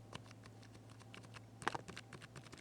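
Typing on a quiet generic membrane computer keyboard, soft muffled key taps in an uneven patter, faint and close, with one slightly firmer cluster of presses midway.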